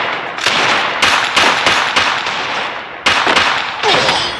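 Heavy pistol shots from a Desert Eagle in the Free Fire video game, a string of loud, punchy bursts at irregular intervals, close and dominant, no voices.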